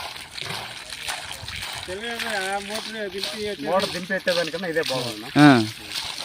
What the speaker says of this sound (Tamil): அது ஒரே கம்பஷனில் ரெண்டு போர் ஜாயின் பண்ணி தண்ணி எடுக்குது.